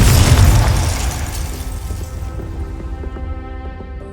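Confringo spell blasting in Hogwarts Legacy: a loud, close explosive boom at the start that decays into a lingering rumble with faint ringing tones over four seconds.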